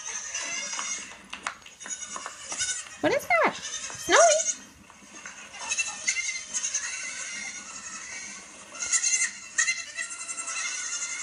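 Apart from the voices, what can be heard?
goats bleating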